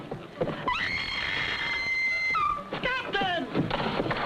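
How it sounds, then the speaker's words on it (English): A woman screams in a long, high, sustained cry, then shorter wavering shrieks, loud and close over a busy, noisy background. "Do I hear a lady screaming?"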